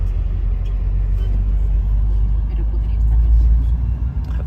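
Road traffic in Peru rumbles loud and close, heard from a front seat inside a vehicle, with steady low engine drone and passing noise while people talk over it.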